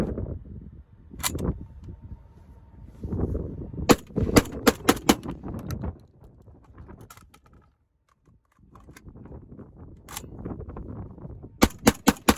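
A JTS 12AR 12-gauge AR-style shotgun fires Winchester and Fiocchi shells outdoors, sharp loud reports in quick bursts and single shots separated by pauses and quieter handling noise.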